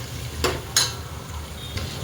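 Sliced onion, cut lengthwise, frying in hot oil with cumin, bay leaf and cinnamon: a steady low sizzle with a few sharp stirring scrapes and clinks.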